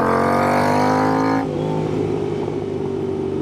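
A Royal Enfield Interceptor motorcycle fitted with an S&S cam and Revelry Racing intake revs hard with a high buzzing engine note, then drops abruptly to a lower, rougher idle-like rumble, close and loud.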